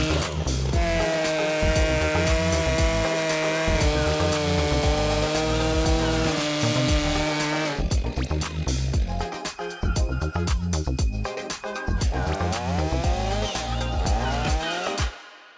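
A huge chainsaw, among the largest in the world, runs loud and close with a steady droning whine, then bogs and roughens as it bites through a slice of an enormous tree trunk propped on a block.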